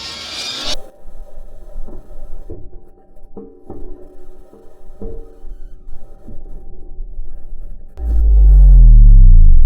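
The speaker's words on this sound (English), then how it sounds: "This is the sound of Perseverance Mars rover driving on the surface of" Perseverance Mars rover driving across the Martian surface, heard as a low rumbling crunch with scattered faint metallic clicks and knocks, ending in a loud low-frequency burst.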